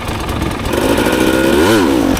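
Dirt bike engine revving hard through a wheelie pop on an Arizona training ride, a loud, close, steady roar that climbs sharply in pitch near the end before dropping back.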